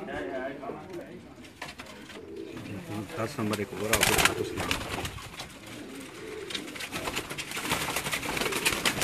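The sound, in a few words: Teddy breed pigeons cooing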